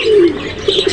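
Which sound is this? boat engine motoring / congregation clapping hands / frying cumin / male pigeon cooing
male pigeon cooing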